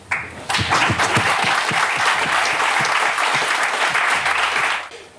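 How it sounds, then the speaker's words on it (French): Loud, sustained applause from a room full of people at a donor medal ceremony, starting suddenly and lasting several seconds before fading out. "Je pense que ça mérite une nouvelle salve d'applaudissements pour Anne."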